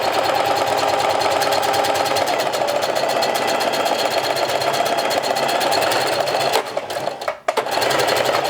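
Sewing machine stitching a hem on denim jeans, a loud, steady, rapid mechanical chatter running continuously close up, briefly stopping and dipping near the end before resuming.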